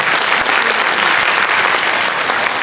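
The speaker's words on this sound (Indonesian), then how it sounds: "Kita tepuk tangan untuk Mr." A room full of people at a training event claps loudly and continuously, a thick, sustained patter close by with no pause.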